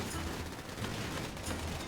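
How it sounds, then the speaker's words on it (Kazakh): Dense, continuous gunfire from a police-versus-mafia shootout in GTA 5, with overlapping shots and bursts forming a steady, noisy barrage throughout. "Жесткий атыс кетіп жатыр."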